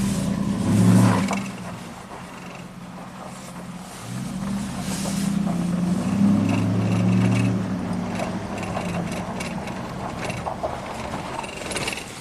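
Ram Hemi V8 engine running rough from a dead oxygen sensor, with bank 2 far out of trim: a continuous, moderately loud mechanical drone with uneven surges and faint ratcheting clatter.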